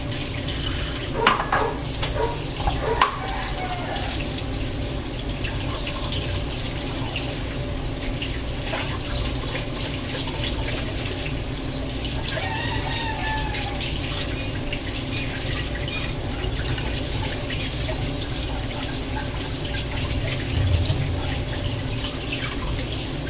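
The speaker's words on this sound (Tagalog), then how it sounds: "Hugasan ko yung mga base." Bases being washed under a running tap during a general cleaning, with a steady close rush of water into a sink and occasional splashes, drips and light knocks against the basin, and no talking.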